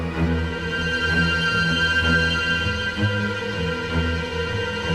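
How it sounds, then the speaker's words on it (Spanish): Horror soundtrack strings pitched at extreme high and low registers with the midrange stripped away, a steady sustained texture of a high shrill tone over deep low bowing, alone and moderately loud. "Y en conjunto con las primeras cuerdas suena algo así."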